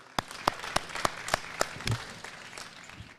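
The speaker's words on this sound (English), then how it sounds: "let's see if the crowd can stick with us here and give all three of these kids a round of applause" A sparse crowd at a Texas National Stock Show prospect show claps for three kids, with about ten evenly spaced claps ringing out in a short, thin round of applause.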